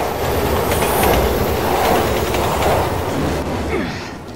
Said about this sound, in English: Train is coming.